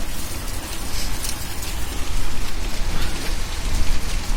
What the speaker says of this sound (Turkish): Şu an fırtına çıktı.